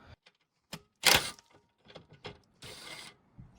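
Ratchet clicking while loosening the 12 mm skid plate bolts underneath a 2016 Subaru WRX: short bursts of ratcheting and metallic clicks at close range, a loud sustained burst of clicking partway through, with no talking.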